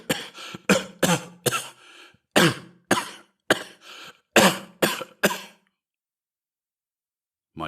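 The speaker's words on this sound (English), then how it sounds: "How long have you had that cough?" A man coughs in a run of about ten harsh, separate bursts, the spacing uneven, before a long silence.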